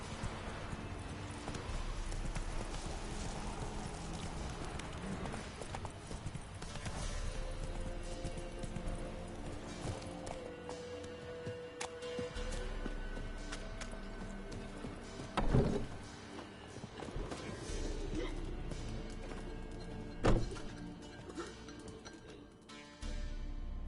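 In The Witcher 3, a horse trots and gallops with a steady, rhythmic clip-clop of hooves under game ambience, with occasional louder thuds breaking the pattern.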